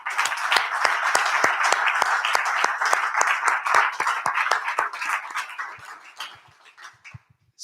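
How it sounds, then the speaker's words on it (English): An audience at a music technology conference claps for the session's presenters with steady, sharp claps close by, tapering off into a few last scattered claps. "Let's give them a round of applause"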